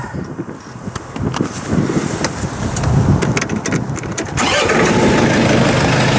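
A backhoe engine cranks over amid rumbling, then catches about two-thirds of the way in and settles into a loud, steady idle, close by with no speech.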